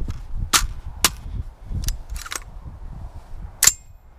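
A rifle fires .223/5.56 rounds outdoors in open ground, with five or six loud, sharp shots at irregular intervals over a low rumbling background.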